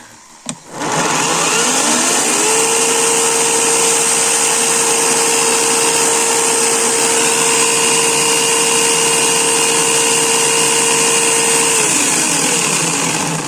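A Worcraft CGC-S40LiBA cordless electric chainsaw starts after a brief click and runs at a steady, loud, high whine for about eleven seconds before winding down, with nothing else heard.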